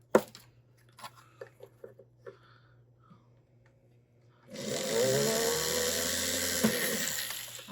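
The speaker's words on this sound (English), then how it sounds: "I would not drill holes this way if I was needing any sort of accuracy." A loud, steady power drill whines continuously for several seconds while drilling holes, after a few quiet clicks and taps, with a grinding, buzzing texture.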